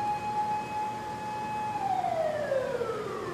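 A single electronic siren tone from a toy ladder fire truck holds steady, then glides downward in pitch, thin and toy-like against a quiet background.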